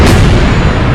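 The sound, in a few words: meteor aerial explosion sound effect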